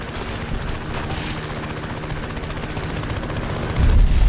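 A dense wash of rapid gunfire and explosions rumbles through a battle in Fallout: New Vegas, steady and loud, with a heavier boom building near the end.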